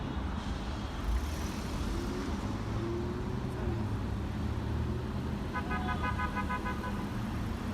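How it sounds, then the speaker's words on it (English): Car horns honk in busy street traffic, a short cluster of toots standing out near the end over a steady roadway rumble. "And I saw all the honking and the horns"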